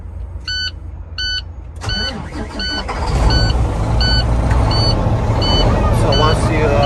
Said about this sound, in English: At this point, we're gonna start the vehicle. We're gonna turn the key